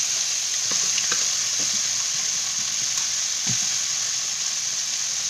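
Broccoli sizzles in a stir-fry pan with pulled chicken, a steady close frying crackle with occasional faint clinks of stirring and no talk.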